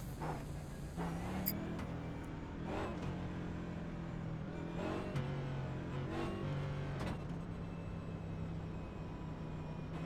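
Simulated NASCAR Cup car in iRacing at Bristol Motor Speedway idling and rolling out from pit road behind the pace car, a steady low engine drone with several brief throttle swells, continuous throughout with no talk.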